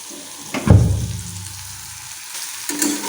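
Maggi noodles with potato fry in a pan, a sharp burst of sizzling that settles into a softer crackle, then flares again near the end.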